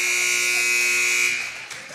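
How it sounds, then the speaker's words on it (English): A loud electronic buzzer sounds steadily for over a second at a high school girls' basketball game, then cuts off into crowd noise and murmuring. "Shot comes up, in and out near the buzzer."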